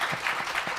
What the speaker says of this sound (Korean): 제가 사실은 박수를 좀 부탁드리려고 했는데 먼저 박수를 주셨습니다